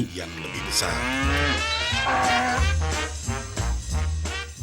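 A cow moos in long, drawn-out calls, loud and close, one low lowing following another with no talk over it.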